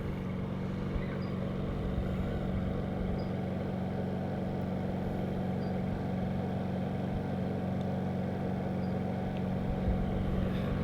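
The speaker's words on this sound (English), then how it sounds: "the EU3200I, this is at eco mode and low idle," A Honda EU3200i inverter generator idles in eco mode with no load, a steady, even low drone with a constant hum and no change in pitch, heard alone throughout.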